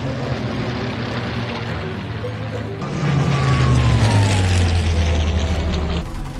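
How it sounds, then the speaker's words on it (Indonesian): Propeller engines of Soviet fighter planes roar in a war film's aerial battle scene, a droning rumble that swells loudly midway with a descending whine as a plane passes, then eases off. "Pangkalan udara segera mengirim 3 pesawat tempur Soviet untuk membantu Nicole."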